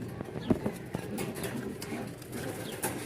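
Pigeons cooing in soft, low repeated calls, close by, mixed with faint rustles and small knocks as a person talks over them.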